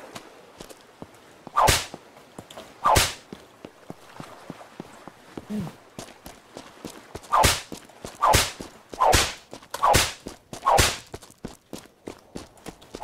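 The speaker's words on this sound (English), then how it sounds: "Or maybe just me whipping my whip too much." Sharp whip cracks ring out in the survival game Unturned, about eight loud isolated snaps spaced irregularly across the stretch, with quiet ticking and faint footsteps between them.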